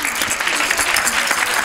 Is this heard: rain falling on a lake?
no